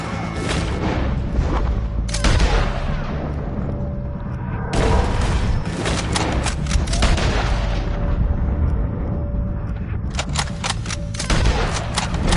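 A loud, sustained shootout with O'Driscolls in Red Dead Redemption 2, with dense overlapping gunshots and booming reports, sharp cracks standing out in clusters throughout over a constant roar of battle.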